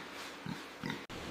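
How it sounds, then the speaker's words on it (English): Pigs grunting inside the buildings of a huge farm holding thousands of animals, two short low grunts heard over a steady background hum of the barns. "Thousands of pigs live inside these buildings."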